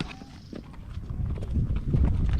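Horse hooves clip-clop at a steady walking pace during a horseback ride near the Hollywood Sign, with soft outdoor background noise and the steps growing a little louder toward the end.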